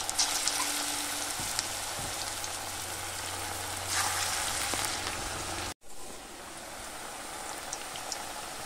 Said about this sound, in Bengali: তো বড়াগুলো এবার উল্টে পাল্টে ভেজে নেব।